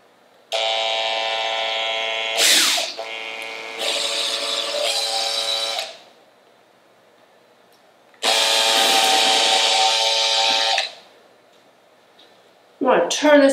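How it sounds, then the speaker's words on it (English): A power drill bores holes in a pumpkin, running in three loud, steady whining bursts of a few seconds each with quiet pauses between them and brief scraping sounds. "So we're gonna drill just below and just above each hole."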